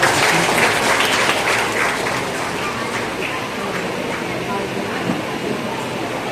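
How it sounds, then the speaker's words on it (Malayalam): Guests clapping at a family wedding-style stage event as the bride's brother is welcomed, a dense burst of applause that starts strong and settles into steadier, slightly softer clapping. "കൈയടിക്കോ?"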